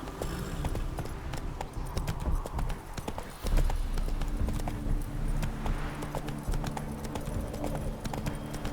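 Horse hooves clip-clop at a steady gallop in The Witcher 3. The hoofbeats are continuous and rhythmic, mid-loud, with game ambience and a brief louder thud partway through.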